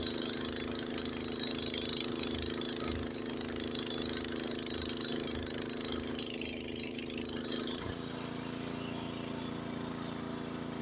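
A Honda snowblower engine runs steadily through deep snow during a Lake Tahoe snowstorm, a loud continuous drone with a rhythmic low pulse that shifts pitch slightly near the end, with no talking.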